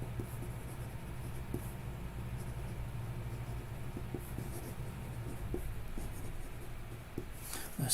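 A fountain pen with a slightly tight nib, inked with Diamine Umber Green, scratches across paper in a soft, continuous stroke, close and quiet, with a faint hum of room noise underneath.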